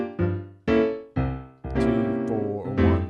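Swing comping over a 2-5-1 progression at a 120 tempo: a handful of full, sustained chord stabs struck one after another, each ringing and fading before the next, played alone and close.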